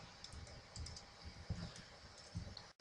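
Computer keyboard keys are pressed in a quiet room, a series of soft, irregular clicks and taps spread across a few seconds.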